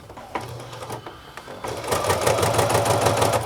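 Sewing machine fitted with a flat felling foot stitching napkin fabric, starting with sparse, hesitant stitches that then break into a steady, loud mechanical whir of rapid needle strokes.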